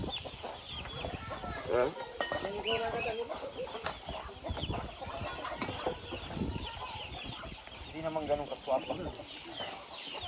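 Chickens cluck in short, scattered bursts at a riverside fishing spot, mid-distance, mixed under ongoing conversation in Filipino.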